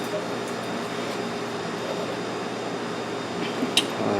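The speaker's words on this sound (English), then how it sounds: "A little noisy in here with the air conditioner running." Air conditioner running inside a 1994 Saab 9000, a steady broadband whoosh and hum filling the cabin at moderate level, with a couple of faint clicks near the end.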